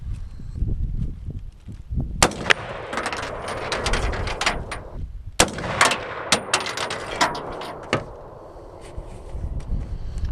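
Ruger SR-762 rifle shots ring out outdoors, several loud sharp cracks spaced a few seconds apart with echoing tails, no voices.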